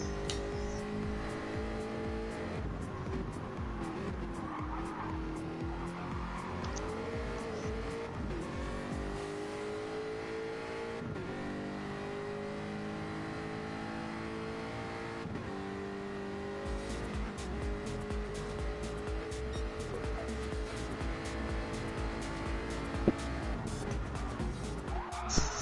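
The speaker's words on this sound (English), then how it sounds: "he's struggling to get that power down" A Jaguar race car in a racing video game roars around Mount Panorama, its engine revving hard and shifting through gears with tire squeal and skidding as it struggles for traction, loud and continuous throughout.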